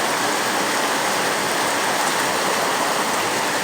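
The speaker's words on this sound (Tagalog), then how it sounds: "Baha na kami dito, guys." Heavy typhoon rain pours down over floodwater, a dense, constant loud hiss of rushing water with no letup.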